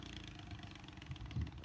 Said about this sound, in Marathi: ट्रॅक्टर फसू राहिलाय